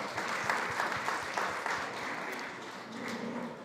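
An audience at the SXSW 2025 All Things Food Summit applauds a panel being introduced, a fairly faint, sustained clapping from a crowd that tapers off slightly toward the end.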